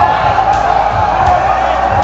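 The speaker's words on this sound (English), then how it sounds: "The crowd is loving it" Arena crowd noise at a badminton final of the Asian Championship 2020, a steady broad roar of spectators sustained throughout with faint commentary-like voices mixed underneath.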